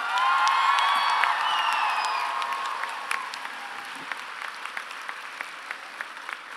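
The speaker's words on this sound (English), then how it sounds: "I just want to get a massive round of applause for all the very talented" An audience at the CCA Showstoppers 2023 stage show for young performers bursts into loud applause that slowly thins out into scattered claps.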